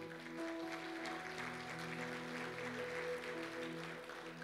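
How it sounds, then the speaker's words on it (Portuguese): A church congregation claps steadily for a few seconds at a worship service, quietly and from a distance, over sustained keyboard tones. "Dê um aplauso ao Senhor."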